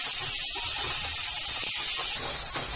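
Pieces of vegetable for a Marathi-style yam (suran) stir-fry sizzle loudly in a hot pan, a steady broad hiss with a few brief crackles, no voices present.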